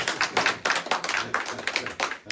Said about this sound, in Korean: 박수로 하고 마무리하겠습니다